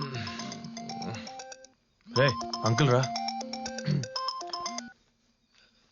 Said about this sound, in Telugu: ఈ టైంలో ఫోన్ ఎవడు బావా?